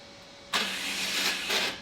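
After a short quiet hum, a straight-piped BMW E36 engine cranks and bursts to life with a loud, raspy roar, then idles with a brief rev.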